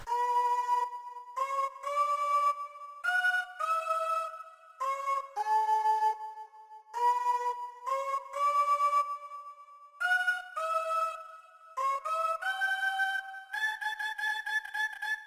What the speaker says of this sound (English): You can turn it into a pad if you want to